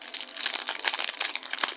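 A Fortnite trading card pack's plastic wrapper crinkles continuously as it is torn open, close and crisp, with no speech.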